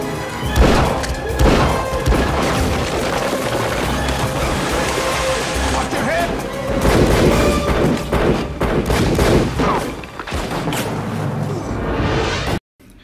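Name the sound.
Hard Rain film audio, rain and shootouts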